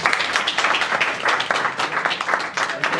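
Audience applause at a press conference in Paris, a dense burst of clapping from a crowd that stays steady and fairly loud throughout.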